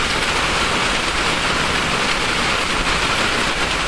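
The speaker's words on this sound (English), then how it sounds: "It's raining!" Steady rain pours down in a dense, even hiss that fills the whole stretch without a break, loud and close, with no voices over it.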